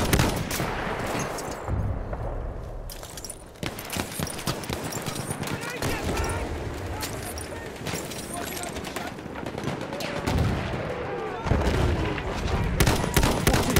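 Enemy machine gun in a war video game rattles in rapid bursts among scattered shots and clattering effects, with players talking over much of the gunfire.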